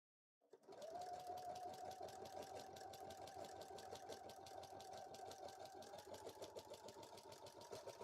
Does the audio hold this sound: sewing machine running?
yes